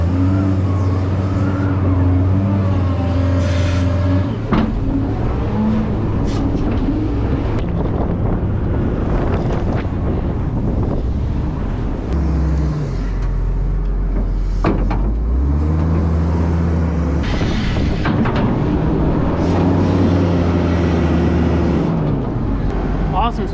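A Case machine works a manure pile in a cattle yard, its engine droning loud and near with shifting revs, wind buffeting the microphone and someone talking over it.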